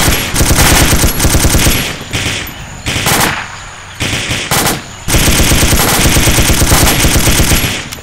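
Loud, sustained bursts of automatic machine gun fire in an Arma 2 Vietnam jungle patrol, long rapid volleys broken by brief gaps, close and dominant with no talk.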